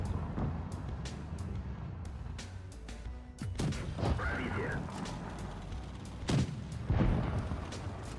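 A tank's ammo rack detonating in the WoT Blitz tank game, heard as a few sharp blasts and booms among game noise and explosions, with a voice talking over the clip.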